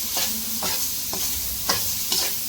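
Tomatoes frying in a pan sizzle steadily as a spoon scrapes through them in about five quick, rhythmic stirring strokes, close by and with no talking.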